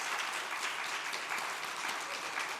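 A church congregation claps for a singer during a Sunday worship service, a steady dense wash of many hands sustained throughout at moderate loudness with no talk over it.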